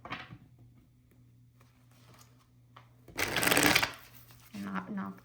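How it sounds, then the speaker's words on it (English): A burst of riffling tarot card shuffling, loud and close, followed by softer shuffling, with quiet background noise and occasional small taps around it. "the loud shuffling on camera"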